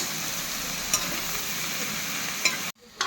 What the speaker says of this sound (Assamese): এতিয়া মই চব্জি দি পেলাই ভাজি আছোঁ ভাত কেৰেলা চব্জি।